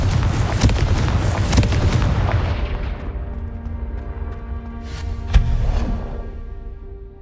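Confringo fire spell explosions in Hogwarts Legacy, a rumbling blast that decays over a few seconds, followed by a second sharp burst, loud and near with no talk.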